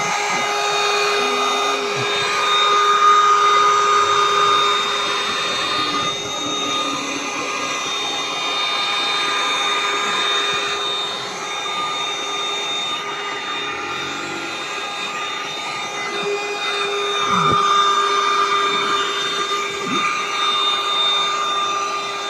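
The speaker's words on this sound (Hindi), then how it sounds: "वैक्यूम क्लीनर जो भी एक एकदम सिंपल तरीके से आपको सिर्फ घुमाना है और उसको क्लीन करना है" A mini portable wireless vacuum cleaner runs continuously while cleaning a car's carpet, a steady whining motor drone with slight shifts in pitch as it moves, close and loud.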